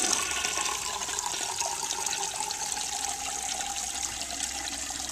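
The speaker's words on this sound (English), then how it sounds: "So here's a flush" Continuous rushing water from a 1970 American Standard Cadet toilet mid-flush, close and steady throughout, with no voices over it.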